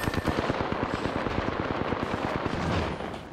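Rapid automatic gunfire from Apex Legends, a dense rattling burst of shots repeating steadily and loudly for several seconds without pause, with no talk over it.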